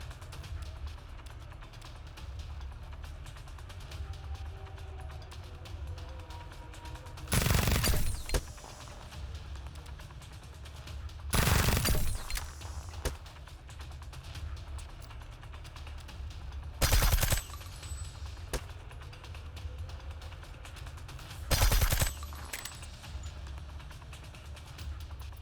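Turret fire in the video game Reverse Collapse: Bakery Girl, heard as four short loud bursts spaced several seconds apart over a steady low game ambience.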